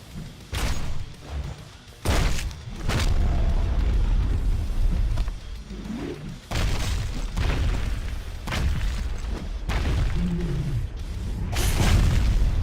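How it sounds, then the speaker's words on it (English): Heavy booming slams and thuds from a WWE Immortals wrestling video game, with a Batista Bomb finisher, land repeatedly over a loud, continuous game soundtrack and effects. "We're going to go off the Batista Bomb, and the Big Show is eliminated."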